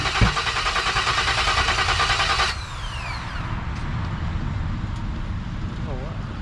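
An LS-swapped engine in a 1970 Chevy C10 at its first start-up, a loud rumbling idle that drops to a steadier, lower rumble partway through, with voices talking over it.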